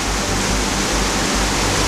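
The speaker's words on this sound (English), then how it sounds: "This is Misery Creek. Beautiful little pools down here." Continuous rushing flow of Misery Creek spilling over small rocky pools, a steady broadband wash with no talking.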